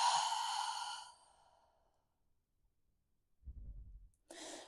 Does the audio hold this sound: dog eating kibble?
no